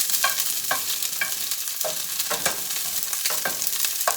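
Meat and onion frying loudly in a pan while tortillas are being made, a dense, steady sizzle with crackling pops and occasional stirring scrapes, close up with no talking.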